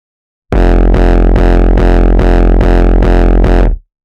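A hardstyle kick drum with heavy added distortion hits eight times in a steady, evenly spaced rhythm, each loud saturated thump ringing out with a gritty tail before the pattern stops abruptly.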